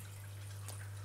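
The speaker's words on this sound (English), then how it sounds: "disturbance on the surface of the water and enough bubbles getting in through there" Water from a DIY aquarium overflow trickling and dripping into a tank with faint bubbling, a brief, quiet wash over a steady low electrical hum.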